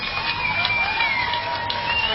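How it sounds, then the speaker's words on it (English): An arena crowd cheers as the Coquitlam Express hockey team wins the Fred Page Cup, a steady, dense roar of many voices sustained throughout. "The crowd comes to their feet."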